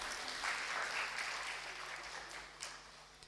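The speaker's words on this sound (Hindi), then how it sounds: "तालियां बजा दीजिए" A lecture audience gives a faint, thin round of clapping during a talk on Jain history, a few scattered hands in a quiet room over a low steady hum, fading toward the end.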